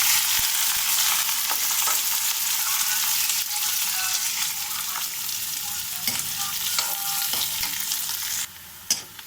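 Chopped onion and green chillies frying in oil for a chana dal and bottle gourd curry, a loud continuous sizzle with occasional spatula scrapes, ending in a few sharp knocks.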